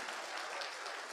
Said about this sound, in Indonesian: mau tepuk tangan silakan Bapak Ibu sekalian